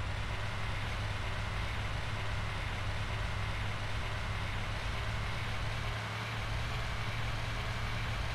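Fast car engine in the video game GTA San Andreas, a steady loud droning roar with a constant low hum, held evenly throughout with no talking.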